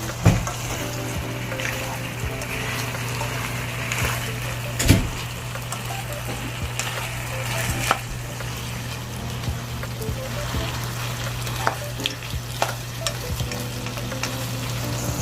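Small crabs and seasonings sizzle in a pan for a coconut-milk vegetable dish while being stirred, a constant loud frying hiss with a low steady hum and occasional sharp clacks of the utensil against the pan.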